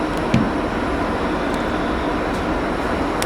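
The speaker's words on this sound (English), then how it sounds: "This train is bound for Aomori." A train bound for Aomori in Japan gives a steady, loud rumbling roar throughout with a faint high whine, with no voices.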